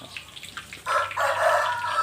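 Several chickens crow and cluck at close range, a rooster's call swelling loudly about halfway through over a steady low hum, recorded outdoors at a Thai village food stall where fried snail cakes are being made.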